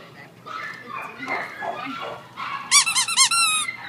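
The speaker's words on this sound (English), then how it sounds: "Let's see if you like the squeaky toy." Squeaky dog toy squeezed at an animal shelter, a rapid burst of five or six loud, close squeaks following soft talking.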